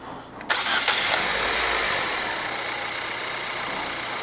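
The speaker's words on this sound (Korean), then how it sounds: "시동을 꺼봐. 다시 켜봐봐." A used car being inspected at a dealership, suspected of a gas-leak-like noise, is switched off and started again; a short burst is followed by a steady, loud engine running with no talking.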